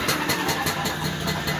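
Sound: moped engine running

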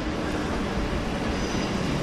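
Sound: train pulling in

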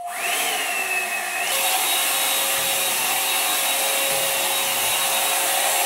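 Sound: hot air hair brush running while styling hair

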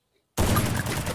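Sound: gunshots in Garena Free Fire video game

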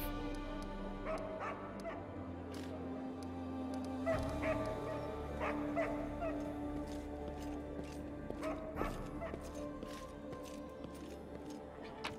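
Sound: dog barking in the video game Pathfinder Kingmaker

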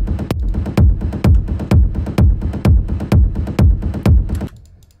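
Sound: techno kick drum with rumble bass

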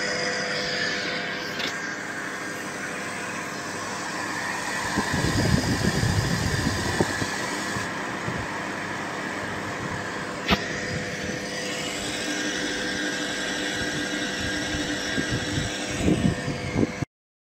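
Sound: tractor engine running at 2900 rpm

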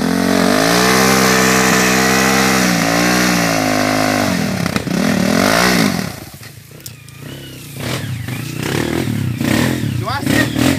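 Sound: Honda CRF 230 dirt bike accelerating on a trail

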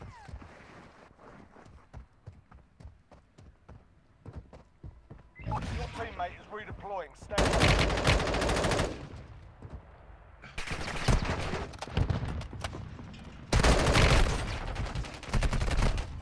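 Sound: gunfire from a gun in the video game Warzone Mobile

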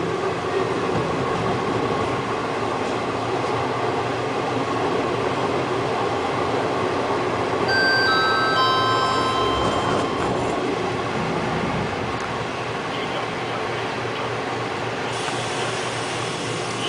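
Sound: train, PKP Intercity

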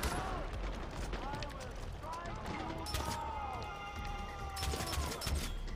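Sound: sniper rifle gunfire in the video game Far Cry 4

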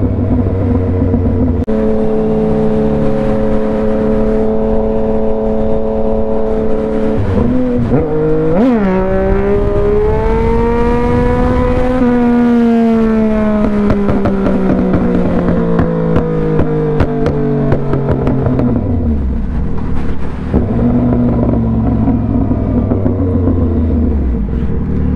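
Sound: car accelerating hard alongside the motorcycle

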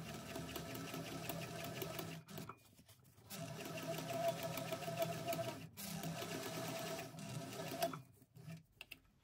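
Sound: sewing machine top stitching a bag

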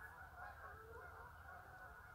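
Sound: geese honking

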